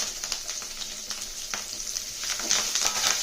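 Onions fry steadily in a pan with whole spices for a cauliflower masala curry, a continuous bright sizzle with occasional stirring scrapes that grows a little louder toward the end, close and without talk.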